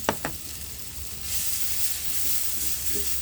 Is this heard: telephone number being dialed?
no